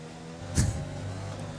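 Williams Formula 1 car engine in the F1 2020 racing game, a brief rising engine whine with a sharp burst around the middle over a steady low drone, close and fairly loud.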